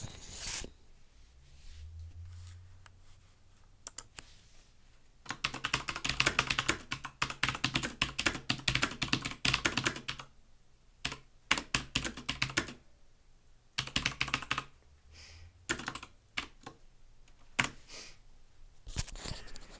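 Typing on a computer keyboard during a coding session, close and fairly quiet, in irregular bursts of rapid key clicks separated by short pauses, with no talking.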